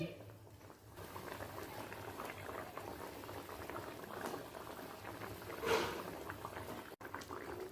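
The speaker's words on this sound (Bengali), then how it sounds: "হাই ফ্লেমে এক মিনিট ফুটিয়ে নেওয়ার পর গ্যাসটাকে বন্ধ করে দিচ্ছি" Dhokar dalna, a lentil-cake curry, boils in a pan on a high gas flame with a continuous soft bubbling and simmering. A few louder pops and bursts stand out, close and fairly quiet throughout.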